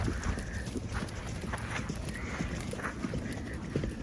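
Horse cantering during a riding lesson, rhythmic hoofbeats thudding in a repeating three-beat pattern at moderate distance, fairly faint against an open arena background.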